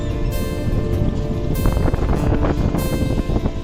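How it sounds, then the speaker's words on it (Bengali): Strong wind blows by a riverside and buffets the microphone in a loud, continuous roar with gusty surges throughout, with no talking. "প্রচুর পরিমাণে বাতাস"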